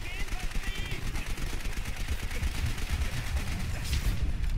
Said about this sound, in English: Oh, I'm getting shot by everything.